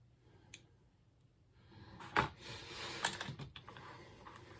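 Small snips and clicks from cutting off thread ends while rigging the slings on a model ship, a few quiet cuts close by with light handling noises between them.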